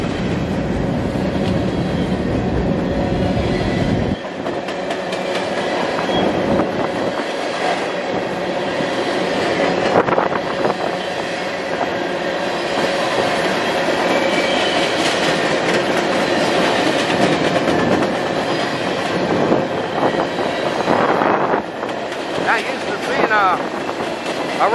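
A CN freight train led by an SD60 locomotive rumbles past with rhythmic clickety-clack of wheels on rail joints, loud and close, with a voice speaking briefly over the noise.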